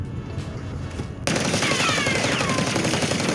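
Jackal submachine gun firing in Warzone: after a quieter lead-in, a sudden, loud, close burst of rapid automatic fire runs steadily to the end.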